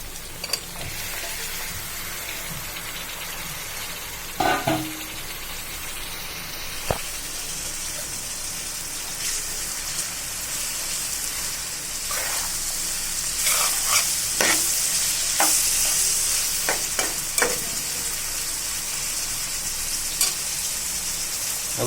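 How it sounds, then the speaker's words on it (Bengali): Taro stolons sizzle and crackle as they are stir-fried in a pan for a Bangladeshi curry with dried ribbonfish and green hog plum, with a steady frying hiss and occasional sharper scraping knocks of the stirring utensil. "এবার আমি কচুর লতিগুলো দিয়ে দিব"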